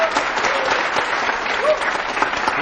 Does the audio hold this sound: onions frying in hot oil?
no